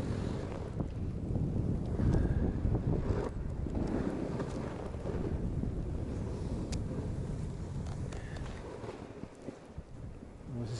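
Strong wind gusts buffet the microphone while snowkiting in hazy conditions at Obertauern, a continuous loud roar and rumble that swells and eases over several seconds with no speech.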